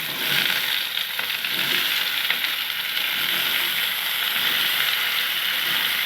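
Potatoes and eggplant fry together in a pan with a loud, steady, even sizzle and occasional faint stirring scrapes, with no voices.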